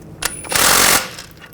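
Power tool tightening a nut on a Volkswagen Tiguan front strut and spring assembly, a short sharp clatter followed by a half-second rattling burst, close and loud, then fading out.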